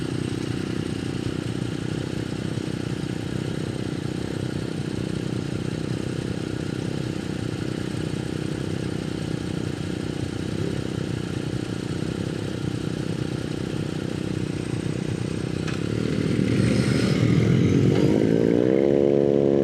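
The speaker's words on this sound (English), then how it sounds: "that monster's like riding a bucking bronco. It's got a dry clutch in it" A Ducati Monster motorcycle with a dry clutch, its engine droning steadily and loud with a rattly mechanical buzz, then revving up and rising in pitch near the end.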